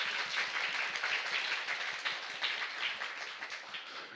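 A small studio audience on a Korean talk show claps steadily, a soft, fairly distant patter of hands that carries on evenly with no voices over it.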